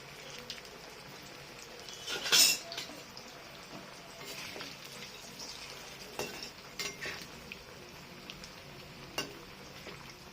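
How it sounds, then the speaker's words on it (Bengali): Oil sizzles steadily as cauliflower pakoras deep-fry a second time, with occasional stirring scrapes and clinks of a utensil against the pan. "পকোড়াগুলো একবার ভেজেছি, এটা আর একবার ভাজবো"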